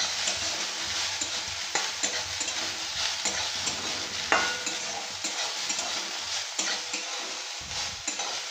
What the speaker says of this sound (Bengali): আমি এবারে সয়াবিনগুলো আগে ভেজে নেবো একটু